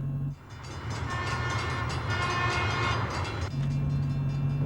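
A train approaches with rumbling wheels and rail clatter, a horn sounding in steady tones that build louder before cutting off into a lower drone.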